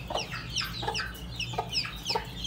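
A hen clucks in a quick series of short, sharp calls close by, over a low steady background hum.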